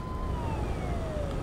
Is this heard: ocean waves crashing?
no